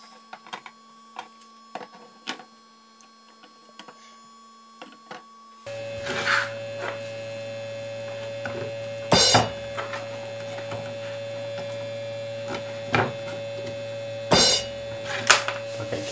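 An inkjet-style printer runs in a room, its mechanism whirring and clicking in short bursts over a steady mains hum, growing louder partway through with a few sharp carriage thumps.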